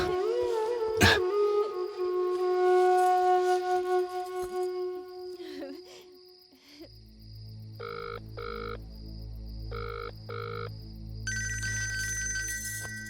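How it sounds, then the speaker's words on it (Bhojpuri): A mobile phone ringtone plays loudly and close, with no voices: a sustained melodic tone with a sharp click near the start, then a rhythmic, bass-heavy tune of repeating pulsed notes that continues to the end. "ए जी भैया के फोन।"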